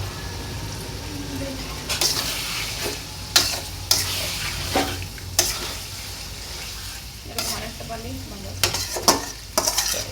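Biryani masala is stirred and fried in a pan, a steady low sizzle broken by sharp scraping and clanking strokes of the spoon at irregular intervals.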